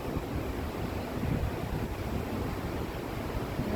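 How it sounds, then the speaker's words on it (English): Ocean surf rushes in a continuous broad wash, mixed with wind buffeting the microphone, and no voices. "And the sound of the waves."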